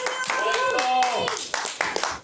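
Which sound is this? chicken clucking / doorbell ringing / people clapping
people clapping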